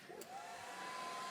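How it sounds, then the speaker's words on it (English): A hair dryer switches on and runs with a steady, airy whir and a faint tonal whine, fairly quiet, with no talk over it. "Hairdryer on."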